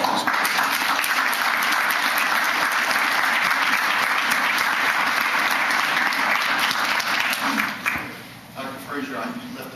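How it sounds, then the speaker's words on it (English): Audience at a fire safety awards ceremony claps in loud, sustained applause that holds steady for several seconds, then fades out near the end as a voice starts speaking. "I want to give Pete Palestina a round of applause"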